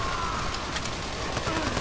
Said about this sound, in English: Go up, shoot that guy, shoot that guy.